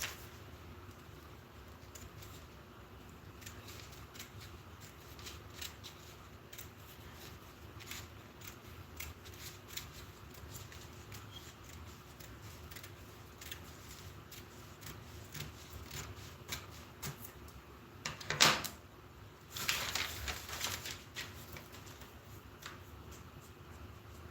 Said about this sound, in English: you will now cut along this shape that looks like